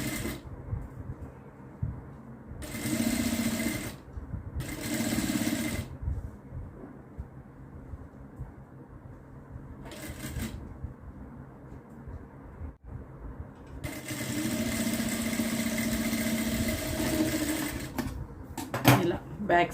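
Sewing machine running in short bursts as it stitches a folded hem on a child's long frock cut from a saree, with steady mechanical whirring between pauses and someone talking over it.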